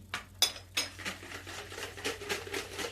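Poğaça dough ingredients, including oil, salt and dry yeast, stirred in a bowl before flour goes in: a quick series of soft clinking and scraping strokes, close and fairly quiet, with no talking.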